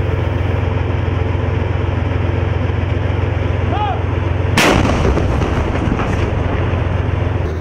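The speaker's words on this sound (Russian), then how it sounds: "Отстреляв по цели, мы меняем позицию." A single sharp, loud gunshot cracks out at a sniper position in Syria over steady low rumbling background noise, followed by a few fainter reports.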